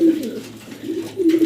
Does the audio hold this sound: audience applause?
no